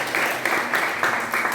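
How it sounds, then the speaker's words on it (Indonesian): A classroom audience claps for group B in a steady, rhythmic burst of applause that is close and fairly loud, with a faint voice underneath. "Silakan kita aplaus untuk kelompok B."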